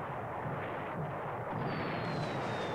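Torpedo striking the side of the heavy cruiser Trieste in the War in the Pacific strategy game, heard as a continuous dense rumbling explosion with a thin rising whistle near the end, steady and fairly loud, no talking.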